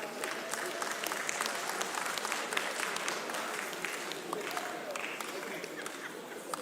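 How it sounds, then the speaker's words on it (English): A crowd at a live comedy show in a casino claps continuously in a dense, even wash of applause, with voices and murmuring mixed underneath. "clap for her."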